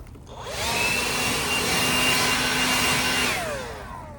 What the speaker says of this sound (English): So you got the blower.